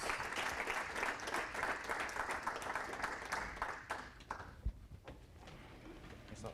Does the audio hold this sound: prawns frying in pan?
no